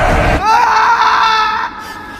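A character in an Indonesian horror film lets out a loud, sustained scream after a brief noisy onset, wavering for over a second before cutting off abruptly.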